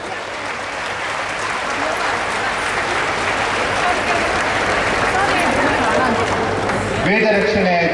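Loud, sustained applause from a large crowd at a Hanuman Chalisa recitation gathering on college grounds, dense clapping running steadily throughout, with voices joining near the end.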